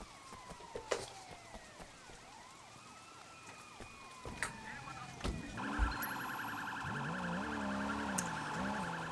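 Police cruiser siren in the Sleeping Dogs video game, a rising and falling wail that sweeps up and down, fairly faint at first, then a steadier electronic warble joins in, with scattered thumps and game sounds.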